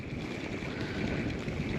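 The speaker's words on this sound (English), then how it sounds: "It is extremely windy out here" Strong wind blows across a frozen winter lake during a lake trout fishing outing, a steady, broad rushing roar buffeting the microphone without pause, with no one talking.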